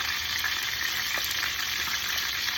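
A steady loud sizzle fills the pan as onions and other ingredients go into a sauce for Jamaican fish rundown, the hiss continuous and close with a few faint knocks.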